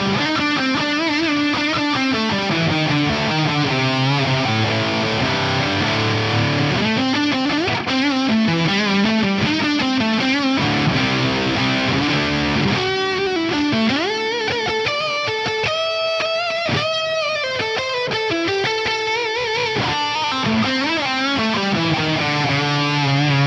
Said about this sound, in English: a really cool way to combine different distortion characters and have my dry signal in there